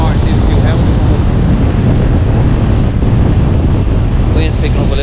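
Strong wind buffets the microphone on the Dublin coast during bass fishing, a constant loud roar with surf-like wash underneath, unbroken throughout.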